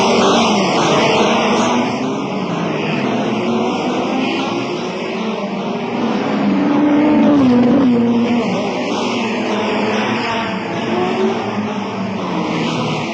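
Racing cars at the 1962 Monaco Grand Prix, mostly Lotus, Ferrari and Cooper machines, roar continuously at full throttle, a dense, sustained engine din with rising and falling pitch as they pass.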